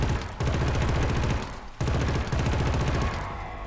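Sustained automatic gunfire from a weapon in the video game Killzone Shadow Fall: rapid, dense bursts of shots in two long runs split by a brief pause, loud and close, with no talking.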